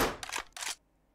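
Two quick gunshots in a video game, loud, sharp cracks about a third of a second apart, then silence.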